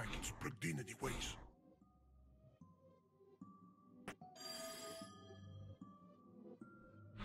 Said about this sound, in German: It's a prototype of Antonio Mucci's telephone.